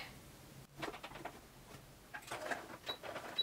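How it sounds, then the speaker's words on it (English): A sewing machine back stitching the seam of a fabric coin purse at a marked dot, its needle running in short bursts of rapid mechanical ticking that stop and restart, close by and fairly quiet. "And I am back stitching right at the dot there"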